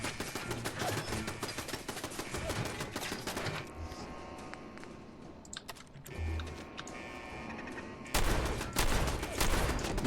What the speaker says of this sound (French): fusil à pompe à cette distance